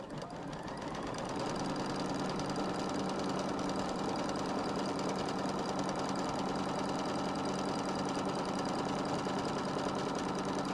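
An embroidery machine sewing a tack down line on batting, a steady, fast, even mechanical whir and needle rattle that starts up and runs continuously at close range, with no talk.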